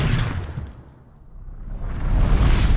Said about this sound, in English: Whooshes come in all different shapes and sizes